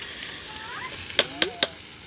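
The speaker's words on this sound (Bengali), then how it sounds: "এদিকে আমার জামাইবাবু পেঁয়াজ ভাজছে।" Onions frying in a pan while cooking at an outdoor family picnic, a soft steady sizzle broken by three quick metallic clinks of stirring, with faint voices in the background.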